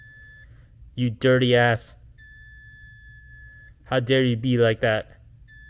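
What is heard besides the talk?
continuity tester beeping when probe prongs touch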